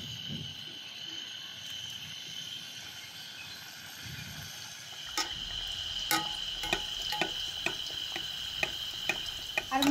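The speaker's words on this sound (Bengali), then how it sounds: "এবার আমি মোগলাইটা ভেজে নেব" A potato-filled mughlai paratha shallow-frying in hot oil over low heat, a quiet continuous sizzle with a faint tone, then a series of sharp clicks and taps from a spatula or pan in the second half.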